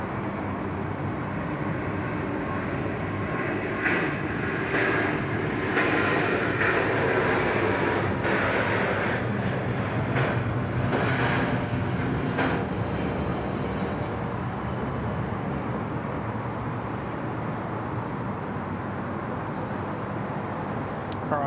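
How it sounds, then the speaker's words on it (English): Delta Airbus A350 landing on runway 34 left at Sydney Airport, a steady loud roar of engines and rushing air, distant and continuous, with a few faint knocks and no voices. "Beautifully done there from the Delta A350."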